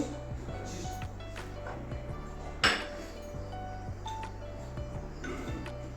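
A pot of washed lentils is set onto a lit gas stove for a Bengali mixed dal with drumsticks, giving one sharp metallic clink over a steady low hum and faint kitchen clatter.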